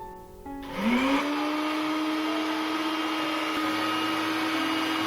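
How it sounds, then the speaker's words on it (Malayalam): A mixer grinder starts up with a rising whine, then grinds dried chillies loudly and steadily at full speed, with no voices. "ഇതൊരു മിക്സി ജാറിലേക്ക് ഇടാം."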